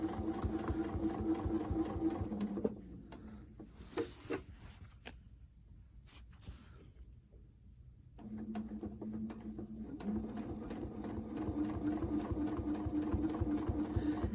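Sewing machine quilting a quilt in the ditch, a steady mechanical whirring hum that stops for several seconds and then resumes, close and fairly quiet.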